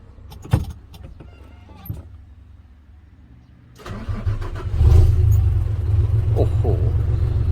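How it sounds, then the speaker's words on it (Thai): A truck engine idles quietly with a few clicks and knocks, then revs up into a loud, deep rumbling exhaust roar that holds steady to the end. "อันนี้ก็รถทำงานนะครับ เราฟังเสียงมาท้ายกันเป็นยังไง"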